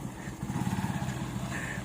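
A motorcycle engine putters with a steady, low mid-range pulse as it pulls away, moderately near and fairly quiet, with no talking over it.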